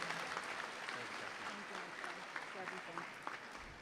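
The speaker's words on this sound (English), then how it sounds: "please give him a round of applause for being a great host at CCSU" Audience applause for the host at a Connecticut History Day awards ceremony at CCSU, a faint, steady wash of clapping with some voices mixed in.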